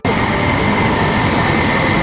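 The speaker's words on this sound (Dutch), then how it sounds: "De tram die komt er zo aan en dan gaan we op richting Nieuwegein." A tram arrives at a stop in Utrecht on the U-OV line toward Nieuwegein, making a loud, continuous rumble and rolling roar that starts abruptly and holds steady at close range.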